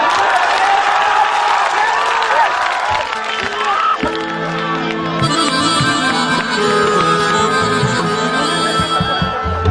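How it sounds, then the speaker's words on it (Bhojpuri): An audience claps at a Bhojpuri stage show, a dense wash of crowd applause and cheering that continues as sustained music tones come in partway through. "ताली बजा के।"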